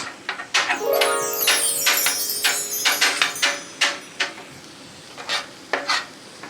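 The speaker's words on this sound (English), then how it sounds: "Now I like to kind of crush up my ground beef while it cooks." Ground beef sizzles and crackles on a hot griddle while a spatula crushes, scrapes and taps against the metal in repeated strokes, close and fairly loud.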